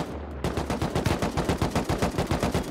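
Rapid automatic gunfire in the survival game Rust: a steady, fast burst of evenly spaced loud shots lasting a few seconds after a brief quiet start.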